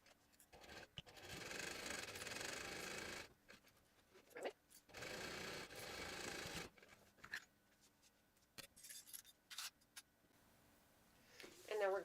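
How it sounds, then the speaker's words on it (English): Sewing machine with a zipper foot stitching a zipper onto a fabric pouch, two sustained whirring runs of stitching separated by pauses, followed by quieter handling and rustling of fabric. "I'm going to put on my zipper foot and go ahead and sew this on"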